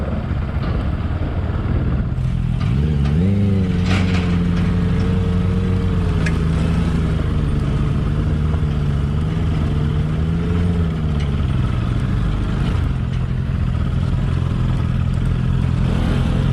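A motorbike engine starts in an outdoor spot near a dam in a wildlife sanctuary, then revs up and holds a rising, wavering drone for several seconds before dropping back to a rough, steady idle, loud and close.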